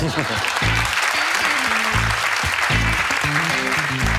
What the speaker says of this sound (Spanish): El aplauso del público.